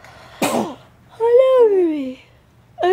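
A baby gives one sharp, close sneeze, followed by an adult cooing in a high, sing-song voice.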